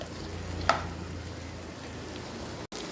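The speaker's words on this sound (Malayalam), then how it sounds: "ഇനി നമുക്ക് ആ വെളിച്ചെണ്ണയ്ക്കകത്ത് തന്നെ ഇതൊന്ന് ഫ്രൈ ചെയ്തെടുക്കാമേ." Potatoes frying in a pan of coconut oil give a steady, even sizzle from start to finish, broken once early on by a single sharp clink.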